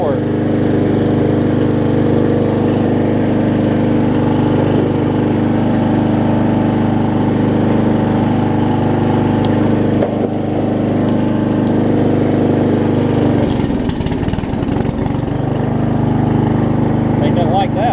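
An MTD Yard Machines riding mower with a Briggs 12hp flathead engine runs loud and close with a steady droning hum, with a brief rough dip in tone near the end as it lurches.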